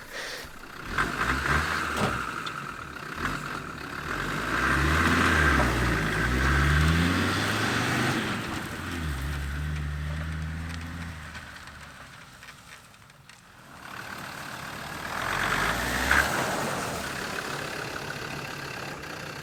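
A Land Rover engine runs steadily for about twenty seconds, a low rumbling drone that swells and eases as revs change, with a brief dip partway through before it picks up again, no voices over it.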